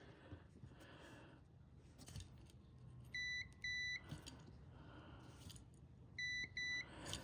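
Short, high electronic beeps from a multimeter on continuity mode, sounding in paired bursts as diodes in a battery charger are tested, quiet and close with faint background hum and no talking.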